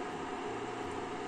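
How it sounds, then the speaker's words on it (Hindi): The cooling fan of a Philips HD-4928/01 2100-watt induction cooktop keeps running after switch-off, giving a steady, faint broadband whoosh with no other sounds. "आप सुन सकते हैं फैन की आवाज"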